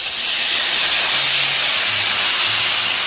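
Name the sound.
sizzling liquid in a hot pan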